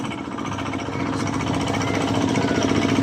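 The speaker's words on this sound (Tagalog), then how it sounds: "Hirap yung motor baka ahon eh." A motorcycle engine labors uphill on a mountain road near Laligan, Bukidnon, giving a steady, close, buzzing drone that grows slightly louder and holds a rough, pulsing tone throughout.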